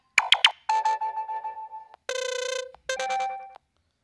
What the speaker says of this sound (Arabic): نغمات موجودة في هاتفك